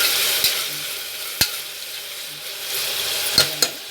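Masala with salt fries in a pan for chicken dum biryani, a steady broadband sizzle running throughout with a few sharp clinks of a spoon stirring against the pan.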